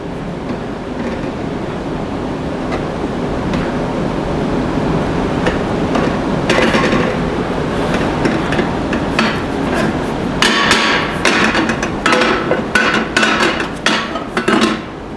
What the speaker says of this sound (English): we're going to break the sand apart